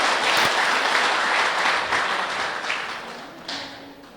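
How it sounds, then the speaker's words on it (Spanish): Dense applause from a church congregation fills the space, steady and loud throughout before easing slightly near the end. "denle ese fuerte aplauso al Señor."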